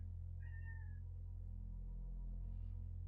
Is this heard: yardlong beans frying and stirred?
no